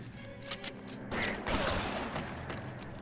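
Gunfire in the LA Noire video game, with a couple of quick sharp reports followed by a burst of louder crackling shots and rattling, fairly close and somewhat chaotic.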